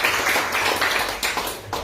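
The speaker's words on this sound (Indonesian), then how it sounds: "Berikan tepuk tangan untuk Tuhan Yesus." A church congregation claps, giving a dense, mid-distance wash of applause with bursts of hand claps that rise and fall over a couple of seconds.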